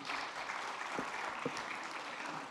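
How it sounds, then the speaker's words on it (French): Applause from a conference audience closing an urban renewal session, an even, moderately distant wash of clapping with a couple of low thumps partway through. "Bien sûr, vous pouvez l'applaudir."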